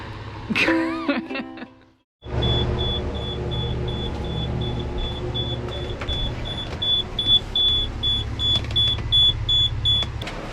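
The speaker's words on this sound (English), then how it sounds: "The sniffer alarm keeps going off." A shrill, steady electronic beeping from a propane sniffer alarm sounds repeatedly over a low vehicle-like hum, after a brief burst of voices and a short cutoff.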